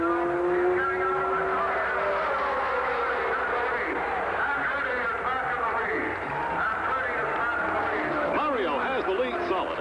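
Race cars at the 1969 Indianapolis 500 drone loudly and steadily, engine tones rising and falling as they pass, with a commentator's voice running over the roar throughout.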